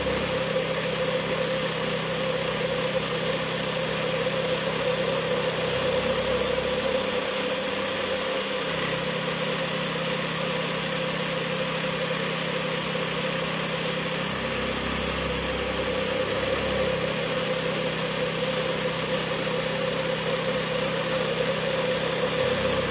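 Steady mechanical drone of a CNC mill slotting through square steel tubing with a 2-flute carbide endmill, a continuous machine hum and whine with two brief changes in load partway through, running alone without talk.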